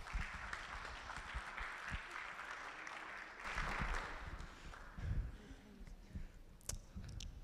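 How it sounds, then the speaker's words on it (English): Audience applause at a campus life awards ceremony, a steady wash of many hands clapping that swells and fades, heard faint and distant throughout. "Let's give him a big round of applause."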